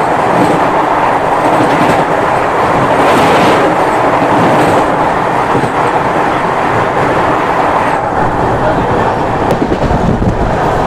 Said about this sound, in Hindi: वैसे देवी कटरा से चेन्नई के बीच चलने वाली अंडमान एक्सप्रेस